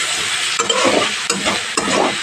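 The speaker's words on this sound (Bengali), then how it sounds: "হলুদের সাথে আলুগুলো এইভাবে নাড়াচাড়া করে নেব" Potatoes stirred with turmeric in a frying pan, a steady close sizzle with three distinct scraping stirs of the spatula against the pan.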